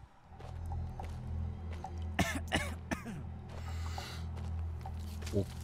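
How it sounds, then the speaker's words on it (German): A character in the horror video game Maid of Sker coughs and clears their throat in two close bursts, loud over a low ambient drone with faint footsteps and mechanical creaks behind. "Dass wir hier husten, ist nicht gut, ne?"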